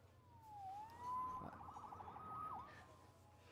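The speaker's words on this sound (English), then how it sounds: "Saved by the siren." A wailing police siren sweeps up and down as it passes on a city street in an animated series, faint and somewhat distant, with a brief hum of traffic beneath.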